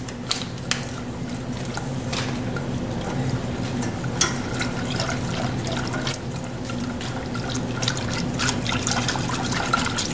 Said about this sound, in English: Just gonna keep whisking this till it gets mixed in.